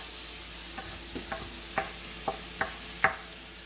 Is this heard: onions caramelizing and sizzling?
yes